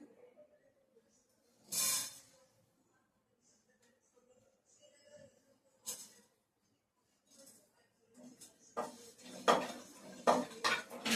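Coriander, fennel and cumin seeds dry-roasting in a pan for chicken fry, heard as scattered scraping and rattling strokes of a utensil against the pan, with a louder cluster of stirring clatter near the end; no talk.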